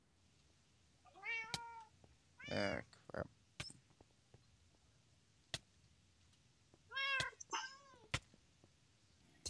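Wither cats in the Minecraft modpack FTB Void World yowl and meow in two bursts, close and loud, with sharp clicks between the calls and a brief spoken exclamation.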